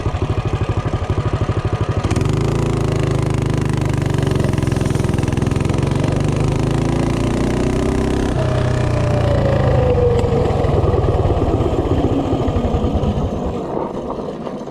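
A bike powered by a Predator 224 engine with a NIBBI carburetor idles loudly up close. It then revs and accelerates hard from a standstill toward 30 mph, its engine note climbing through the gears with no talking.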